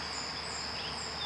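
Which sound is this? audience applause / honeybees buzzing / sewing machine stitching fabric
honeybees buzzing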